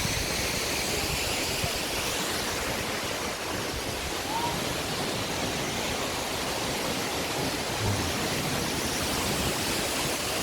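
A cascade waterfall in Canada roars as a dense, constant rush of falling water, loud and unbroken throughout.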